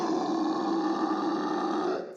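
A sound pitched down nine semitones into a low, growling drone that holds steady and loud for about two seconds and then cuts off, with no voices over it.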